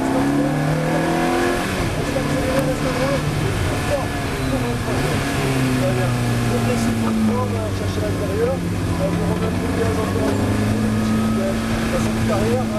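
A Ferrari F430 Challenge GT4 race car engine drones close by under load, its pitch sweeping up and down through gear changes while someone talks steadily over it.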